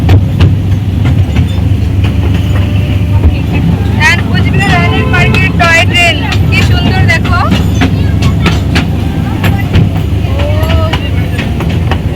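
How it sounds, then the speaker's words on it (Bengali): A toy train runs at the Cooch Behar palace grounds, its steady rolling rumble continuing throughout while voices and some higher whistling tones rise over it in the middle. "দেখো টয় ট্রেন চলছে কি সুন্দর সে মজা লাগছে"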